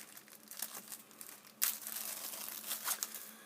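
Plastic bag packaged with a Nitecore flashlight being opened to reach a lanyard inside, with close, quiet crinkling and rustling and a sharper tearing crackle partway through, no speech.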